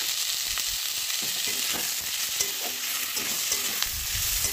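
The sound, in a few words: chopped tomatoes added to frying potatoes in pan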